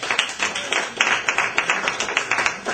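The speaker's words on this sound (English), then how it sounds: "So why don't we give a warm round of applause" Audience at a raw food expo talk clapping, a brisk run of individual claps from a modest crowd, close and fairly loud, with no talk over it.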